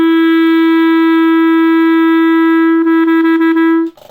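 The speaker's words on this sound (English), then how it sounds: "if we make this sound and put it on the mouthpiece, it sounds something like this." Clarinet mouthpiece played on its own, giving a loud, steady, piercing buzzy tone that holds for nearly three seconds and then breaks into a few quick tongued pulses before stopping.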